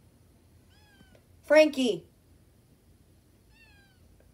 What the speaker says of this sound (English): No matter how much you meow, I'm still not letting you in.